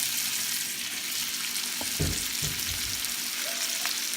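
Pork belly frying with garlic in a pan, a constant crackling sizzle with a few low knocks and clatters partway through, close and without talk.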